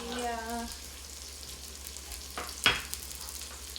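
Hamburgers fry in a pan under a pot lid with a steady soft sizzle, briefly joined by a faint tone and a sharp clink of the lid near the end.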